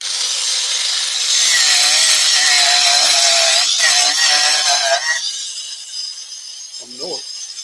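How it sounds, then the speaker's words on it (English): A long-neck grinder with an Arbortech cutter textures scrap wood in a loud, continuous gritty whine that drops off after about five seconds, followed by a brief voice near the end. "I'm using the long neck grinder with the Arbitech cutter, and I'm just doing some texturing straight up and down the wood."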